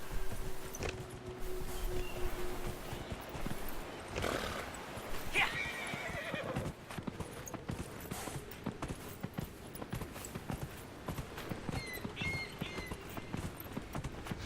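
A horse whinnies several times over steady clip-clopping hooves in the video game Dragon Age: Inquisition, fairly close and moderately loud, in a busy outdoor soundscape.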